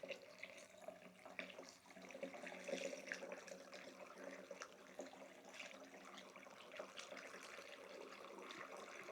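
Warm tap water pours steadily from a jug into a container for an electrolysis setup, a continuous splashing, gurgling flow heard close by from start to finish with no talking.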